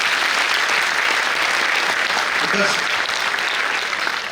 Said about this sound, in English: Clap, big claps.